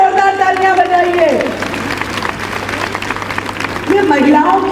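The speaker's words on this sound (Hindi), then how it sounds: "तो अपने लिए जोरदार तालियां बजाइए।" A crowd of women at a Delhi government event applauds loudly. The clapping rises between stretches of someone speaking over a microphone at the start and end.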